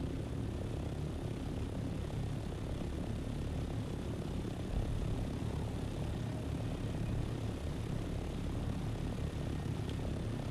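VTOL aircraft engine in Dune Awakening: a steady, droning roar of engine and rotor noise that holds a constant level throughout, with no voices.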